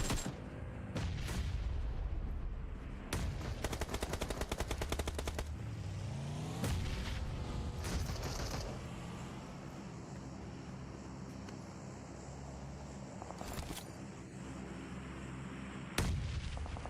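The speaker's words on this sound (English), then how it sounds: "beautiful nade coming through there from Hamadi." In PUBG Mobile, an esports match in the PMPL Arabia league, a grenade explosion and gunfire come as loud, dense bursts of rapid shots and heavy booms, repeating in clusters throughout.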